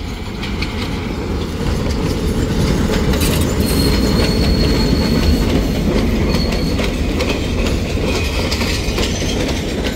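A small train of two coaches runs on the railway at a hill-country station in Nuwara Eliya, Sri Lanka: a loud, steady rumble of wheels on track with faint metallic squeals riding over it.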